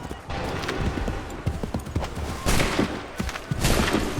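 A musket volley rings out in Assassin's Creed 3, with loud overlapping bursts of gunfire amid battlefield clatter and hoof-like thuds, the heaviest blasts coming in two surges toward the end.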